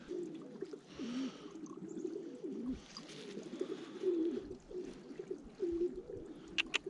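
Roller pigeons cooing close by, with repeated low throaty coos and soft burbling calls in an uneven rhythm, plus occasional light rustling.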